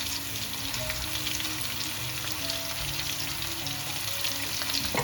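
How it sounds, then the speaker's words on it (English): Garlic and onions frying in a pan give a steady, close, dense sizzle that holds evenly throughout with no talking. "So now we're going to add in the garlic and"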